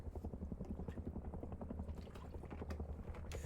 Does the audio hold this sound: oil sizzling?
no